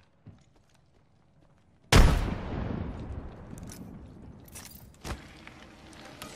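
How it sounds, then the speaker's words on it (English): A frag grenade explodes in the shooter video game Apex Legends. A small pop comes first, then one loud, close blast with a long rumbling tail, and a second sharp bang follows a few seconds later. "Frag grenade sent."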